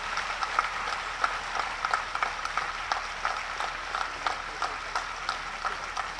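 Sustained applause from a crowd at a Chief Minister's political speech in Jhajjar, steady distant clapping with light rhythmic peaks, moderately faint and continuous.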